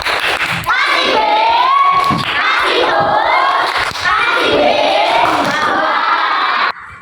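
Schoolchildren clap and cheer loudly for a group of classmates during a coding and artificial intelligence lesson, with shouting voices and a rough wash of claps filling the room almost throughout.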